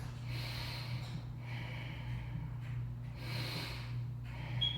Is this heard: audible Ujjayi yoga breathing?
yes